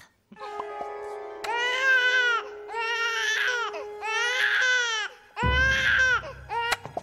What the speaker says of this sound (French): C'est le son le plus stressant du monde, un bébé qui pleure.